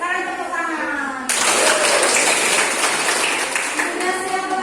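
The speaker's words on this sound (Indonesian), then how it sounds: "Sekarang tepuk tangan." Children in a classroom break into sudden hand clapping, a dense burst of applause that swells after a teacher's voice and carries on for several seconds, fairly close and loud.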